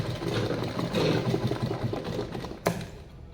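A sewing machine runs steadily as it stitches several gathered pleats of fabric for a puff sleeve, a continuous close mechanical whir with a brief sharp click near the end.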